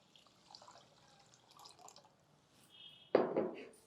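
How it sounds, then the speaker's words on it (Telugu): Water poured from a glass into a pressure cooker with rice, a soft trickle followed by a sudden louder splash and gush close by. "1కి 2 గ్లాసులు నీళ్ళు పోసేద్దాము."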